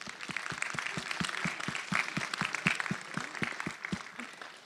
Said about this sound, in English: Let's all give Dave a round of applause